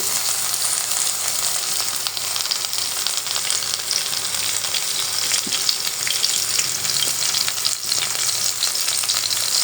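Bottle gourd leaf and dried fish fritters frying in hot oil give off a steady, close crackling sizzle for the whole stretch, with small pops now and then and no voices.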